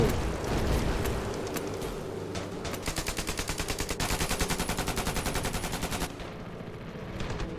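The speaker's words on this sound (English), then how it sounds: "I don't even know where all these explosions are landing." Rapid bursts of automatic gunfire rattle in quick rhythm amid booming explosions in the video game Ravenfield, a dense, continuous battle din with no voices.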